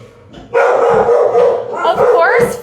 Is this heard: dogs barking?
yes